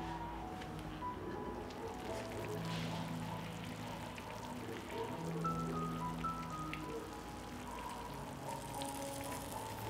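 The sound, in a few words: pouring hot water over sarma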